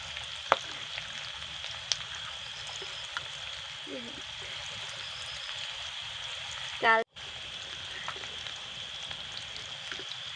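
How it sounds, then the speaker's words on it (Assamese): Ginger garlic paste, green chilies and bay leaf fry in a pan for a Kawai fish dish, giving a steady low sizzle with a few small pops and a brief louder burst near the end, with some talk over it. "তেজপাত আৰু এইখিনি অলপ ফ্ৰাই হ'বলৈ দিম"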